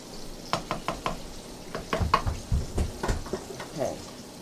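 Candied yams in glaze being spooned from a stovetop pot into a bowl, soft wet scraping and clinking taps in a quick irregular series, close and fairly quiet.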